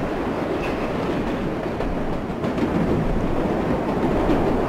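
Subway train in World of Subways 4, riding inside a car with a steady loud rumble of wheels on track and faint rhythmic clatter, no talking.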